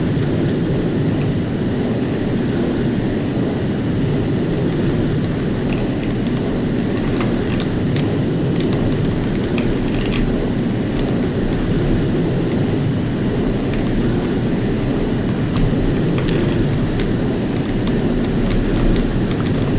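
JAS 39C Gripen jet in a flight simulator game, coming in to land with full flaps at about 120 knots: a steady, loud jet engine roar and wind rush, unbroken throughout.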